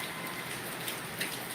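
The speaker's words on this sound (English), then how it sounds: "We're getting some good old rain here" Rain pours down steadily in the Philippines, a dense, even hiss with a few faint drops standing out.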